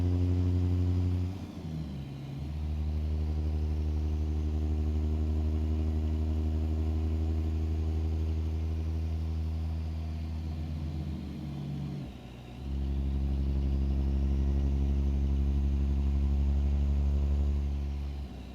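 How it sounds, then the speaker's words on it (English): A heavy truck engine in American Truck Simulator drones loud and steady with strong low harmonics, its pitch dipping and rising twice as it shifts, with no voices. "I kind of like this engine. I have no problems with this at all. Sounds good."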